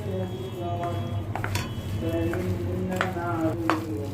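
Batter-coated pumpkin flower pakoras fry in a pan with a steady close sizzle, broken by a few clinks and scrapes of utensils, while a voice talks over it.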